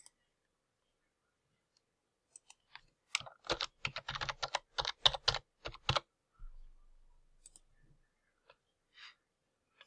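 A computer keyboard is typed on in a quiet room, a few isolated taps followed by a quick run of close, crisp keystrokes lasting about three seconds, then scattered single clicks.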